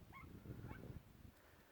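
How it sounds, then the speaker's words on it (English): A dog out hunting signals it has found a rabbit, giving a few short yips and whimpering barks at a moderate distance over low background noise. "that's one of the dogs saying it found a rabbit"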